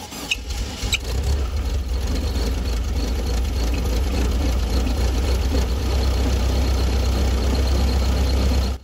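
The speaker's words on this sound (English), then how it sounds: "Now it's time to start the engine up and let it get warm." A VW Beetle engine turns over and settles into a steady, loud idle, a close low rumble that runs unbroken with no voices.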